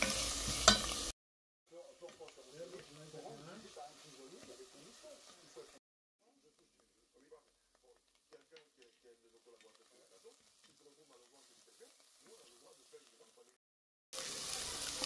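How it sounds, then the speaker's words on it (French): Lamb pieces for mechoui sauté in a pan, giving a steady moderate sizzle with stirring clicks over about five seconds, then a quieter patch of scattered crackles and pops near the pan. "Je laisse sauter le tout à peu près 5 minutes"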